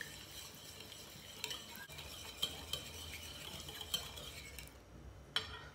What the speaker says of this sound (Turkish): Bunu şöyle bir karıştıralım önce.